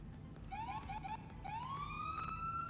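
Police car siren in the video game GTA 4, a close electronic wail rising and falling in repeated sweeps, loud and alone over a low background hum.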